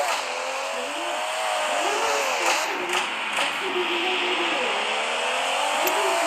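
A Ferrari in a Roblox racing game drives by with a steady synthetic engine whine that rises and falls, while several voices chatter over it.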